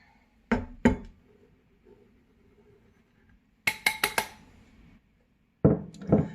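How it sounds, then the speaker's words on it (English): Egg yolk gets broken up in a mixing bowl for hamburger bun dough, heard as a few sharp clinks and taps of utensil on bowl in separate clusters, close and clear, with quiet gaps between. "My egg yolk isn't breaking up, so I'm going to break that now and then add my flour."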